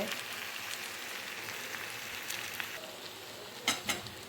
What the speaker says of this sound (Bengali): এখন আমি মাছ ভাজাগুলো দিয়ে দিচ্ছি। ছোট কড়াইয়ের মধ্যে বসিয়ে ফেলছি